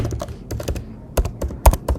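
Keys on a computer keyboard tapped in short irregular bursts while a password is entered, crisp close clicks with brief pauses and a heavier final press, no talking.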